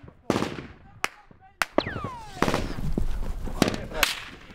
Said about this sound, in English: Taliban fighters appear further up the road and begin to fire at us